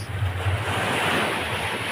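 Sea surf rolls steadily onto the shore in a continuous broadband wash, loud and close, with wind buffeting the microphone throughout.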